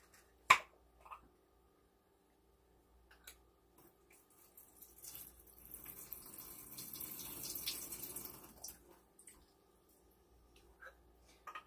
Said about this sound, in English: while I drain the juice off of the cherries.